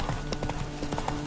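Hooves of Roach, a horse in The Witcher 3, clip-clopping in a quick galloping rhythm, close and steady with a brief whinny-like hint, no talk.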